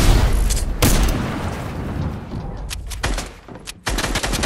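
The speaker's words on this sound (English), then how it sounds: "Y'all are still shooting at me." Gunfire in the Fortnite video game, with dense rapid bursts and sharp loud shots packed across the stretch, broken by a brief lull before another burst.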